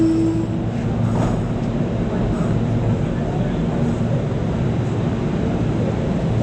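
Steady low rumble of a passenger train riding along the rails, continuous and loud from inside the carriage, with faint voices mixed in.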